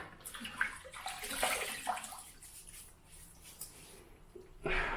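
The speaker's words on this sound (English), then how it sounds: "I'm going to wet the face in preparation." Water splashing and sloshing at a sink as hands wet a face before a shave with a vintage Gillette Slim adjustable razor, a few close bursts of splashes separated by quieter dripping pauses.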